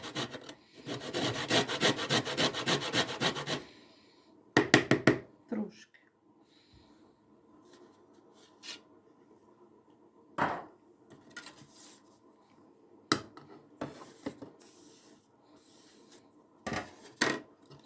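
Mandarin being rubbed over a grater gives a steady, close scraping run of rasping strokes, followed by scattered short scrapes and taps with pauses between them.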